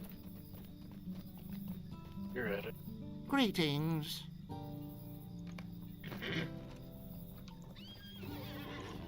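Horse neighs and whinnies in the online game Lord of the Rings Online, with hoof clip-clop running underneath, ambient insects chirping, and a player talking over it at moderate level.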